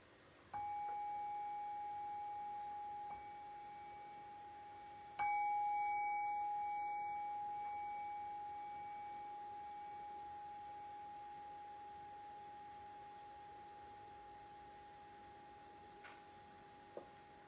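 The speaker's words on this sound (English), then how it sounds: "I'll ring the bell." A meditation bell is struck twice during a lovingkindness practice, each clear ring decaying slowly into a long, quiet hum in a hushed room.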